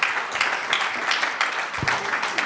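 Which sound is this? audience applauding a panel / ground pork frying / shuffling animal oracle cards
audience applauding a panel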